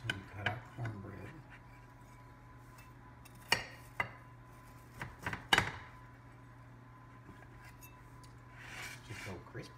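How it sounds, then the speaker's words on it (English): A knife cuts through cornbread in a home kitchen, giving scattered sharp taps and scrapes against the dish and board, quiet between strikes, with a voice talking faintly nearby. "So we cut our cornbread."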